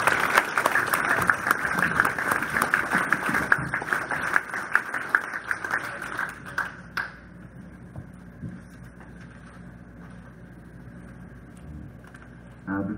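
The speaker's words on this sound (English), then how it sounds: "One more round of applause for Phil Saunders." An induction ceremony audience claps loudly for several seconds; the applause then thins out and fades into a quiet room with scattered claps.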